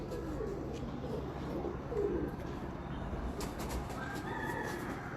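Pigeons on a Lahore rooftop, including a female called Lal Pari, coo softly and steadily over a constant background hum, with no voices.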